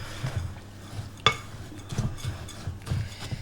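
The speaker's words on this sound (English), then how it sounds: "I'm just going to give that a stir, mix that through" Dry ingredients for ANZAC biscuits being stirred in a bowl, a soft scraping, rustling mix with a few light spoon knocks and one sharper clink against the bowl.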